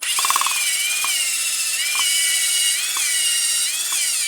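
An electric drill whines steadily as it spins an engine valve against its seat with lapping grit, during a 4th-gen Trans Am engine rebuild. Brief lower clicks mark the moments the drill is worked every second or so, with no talk.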